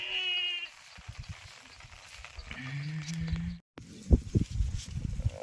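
A sheep bleats a few times, wavering cries close by in cold, drizzling rain, followed by muffled voices and rustling noises.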